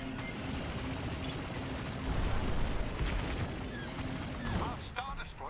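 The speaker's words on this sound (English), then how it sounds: "The explosion." Explosions and booming blasts from a Star Wars space battle video game, with Star Destroyers taking damage, rumbling in a dense layered wash of noise with bursts of crackle near the end, under a commentator's voice.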